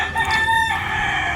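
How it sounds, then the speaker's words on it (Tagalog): A rooster crows loud and close on a small farm where many chickens are kept, one drawn-out crow standing alone over the flock's background noise. "Kadaming alagang manok."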